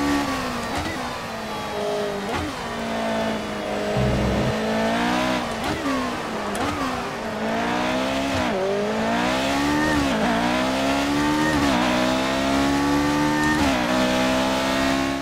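A McLaren MP4-1 Formula 1 car in the F1 2018 racing game, its engine revving loudly and continuously, pitch climbing and dropping through repeated gear sweeps with a brief rough dip partway, close up and uninterrupted.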